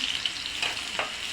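Onions hit a hot frying pan and sizzle, a short bright crackling hiss with a couple of stirring scrapes, close and alone.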